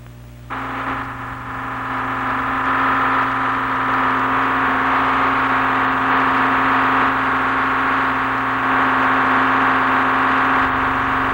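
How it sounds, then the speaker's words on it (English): Three diesel generators run in the engine compartment of the research platform FLIP off Hawaii in 1969, a loud, steady droning hum with a strong low tone, unchanging and alone for the full length. "Three diesel generators supply all the electrical power for housekeeping and scientific needs."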